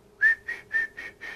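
A person whistles an imitation of birdsong: five short, high-pitched chirping notes in an even rhythm, clear and close with no talk over them.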